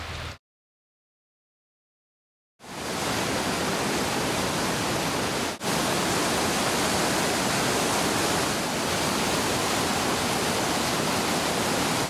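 Steady roar of a waterfall at Crow Creek Gold Mine near Anchorage, a broad, constant rushing wash heard up close, briefly cut out near the start and then continuing unbroken with no voices.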